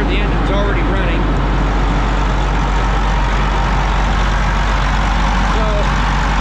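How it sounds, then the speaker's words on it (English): A loud, steady diesel engine rumble from an idling 2002 MCI bus conversion, continuous up close, with broadband mechanical noise and no break throughout. "It's kind of noisy here. The engine's already running."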